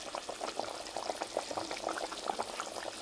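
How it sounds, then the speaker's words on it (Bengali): Curry gravy with fried potatoes bubbles steadily in a pot, a soft continuous simmer of small popping bursts at low volume, with no voices. "দেখো ঝোল তো ফুটে গেছে।"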